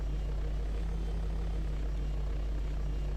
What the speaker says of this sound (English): And somewhere around, there's a helicopter.